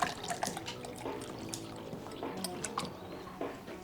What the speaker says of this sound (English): to pour his date a drink before he pours his own